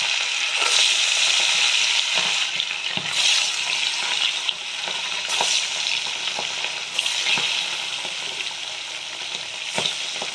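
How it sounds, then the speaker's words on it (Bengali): Tilapia fish pieces fry in hot oil with a loud, continuous hiss and sizzle, dotted with regular sharp crackles and pops throughout. "মাছগুলো আমি ভেজে নেব।"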